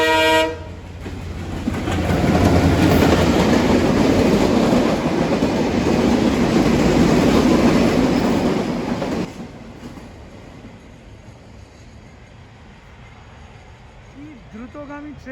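A fast train rushes past Gaidghat railway station in Chuadanga, Bangladesh. It opens with a sounding horn, then a loud roar and rattle of wagons for several seconds, followed by fading rumble and distant clatter as it recedes.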